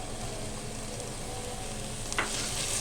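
Chopped carrots frying in oil for a restaurant-style chicken chow mein, a steady close sizzle throughout with a brief stirring scrape near the end.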